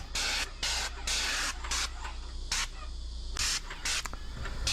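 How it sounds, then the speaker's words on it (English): Bursts of a spray gun spraying paint stripper on a heritage building come in short repeated pulses, close and steady, with a low motor hum running underneath throughout. "do it right way and use a spray gun"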